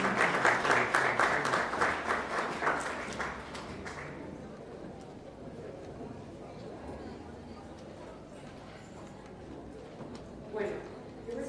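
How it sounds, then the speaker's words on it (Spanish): A seminar audience gives a loud welcoming round of applause that lasts about four seconds and then dies away, followed by low room noise, murmuring and a brief stir of sound near the end. "Recibamos un fuerte aplauso de bienvenida al país"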